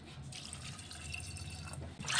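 Water pours into a cooking pot of soaked red chickpeas with salt and whole spices (cinnamon, cloves, a large cardamom), a steady near trickle and splash that swells louder at the end.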